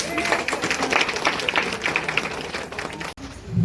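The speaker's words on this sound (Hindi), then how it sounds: "जोरदार तालियों के साथ" Applause from an audience at a trust and society gathering in India, dense steady clapping from many hands for about three seconds, close and loud, then breaking off abruptly.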